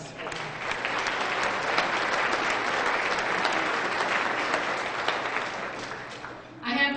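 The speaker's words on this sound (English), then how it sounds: "I'd like to give them a round of applause." A forum audience gives a round of applause for the event's sponsors, a loud, dense wash of many clapping hands lasting several seconds before fading as a speaker resumes talking.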